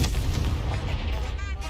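Confringo blasting curse fired in Hogwarts Legacy, a short burst of loud, gunfire-like booms over a busy, rumbling game soundscape that eases slightly toward the end.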